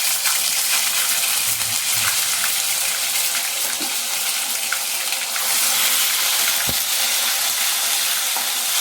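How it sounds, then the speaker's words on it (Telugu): Ginger garlic paste frying in hot oil for a chicken curry, a loud, dense, continuous sizzle heard up close, with faint clinks of a spoon stirring now and then. "ఈ అల్లం వెల్లుల్లి పేస్ట్ పచ్చివాసన పోయేదాకా బాగా ఫ్రై చేయాలి."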